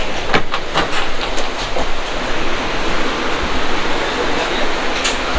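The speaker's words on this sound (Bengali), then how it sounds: "আমাদের ট্রেন এখন ছেড়ে দিয়েছে পালাকাট রেলওয়ে স্টেশন থেকে" Amrita Express passenger train pulling out of Palakkad railway station, heard from inside a sleeper coach: a loud, steady rumble with rhythmic clickety-clack of wheels over rail joints and occasional sharp metallic clanks.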